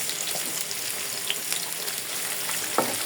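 Dried chilies crackle and sizzle in hot oil with onion and garlic for a dal tempering, a steady close frying hiss with occasional pops.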